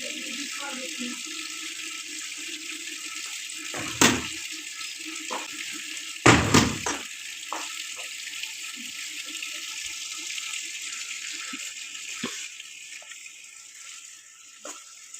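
Water runs steadily from a tap into a bucket for floor washing in a home courtyard, with a few louder gushing bursts and splashes over the continuous flow.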